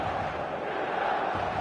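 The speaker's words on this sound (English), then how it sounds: "the San Siro is buzzing, certainly up for this one" A football stadium crowd at the San Siro, filled with fans in red and black before kickoff, makes a loud, steady roar and buzz with no breaks.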